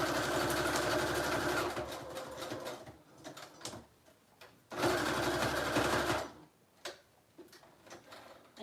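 Sewing machine stitching the border of a mini bohemian journal, in two steady mechanical bursts of rapid stitching about two seconds each, separated by quieter pauses with faint handling sounds.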